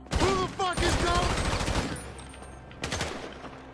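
Rapid automatic gunfire in GTA 5 during a shootout at a construction site, loud and close, a sustained burst followed by a brief pause and another short volley, with voices talking over the shots.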